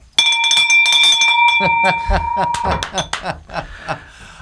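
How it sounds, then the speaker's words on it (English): A bell rings rapidly with bright, repeated metallic strikes and a sustained ringing tone, while voices cheer and talk over it. "Ring that bell."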